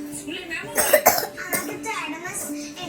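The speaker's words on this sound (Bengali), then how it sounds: "আমার মেয়ের কাশি শুনেই ভিডিওটা শুরু হচ্ছে" A young girl coughs a couple of times at home, short harsh bursts close by, with an adult talking around them.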